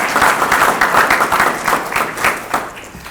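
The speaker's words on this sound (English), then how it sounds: "let's give a round of applause for everyone that's" An audience applauds at a sheriff's award ceremony, with steady, fairly loud clapping from a room full of people that softens slightly toward the end.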